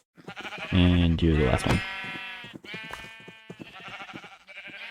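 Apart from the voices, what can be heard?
sheep bleating in a block-building video game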